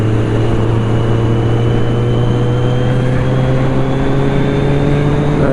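A Kawasaki Z900 motorcycle engine drones loudly and steadily while riding, a strong low hum with rising harmonics as it pulls along, with no talk.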